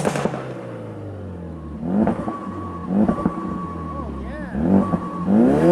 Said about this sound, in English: Let's get out and see how it sounds. It sounds amazing from the outside.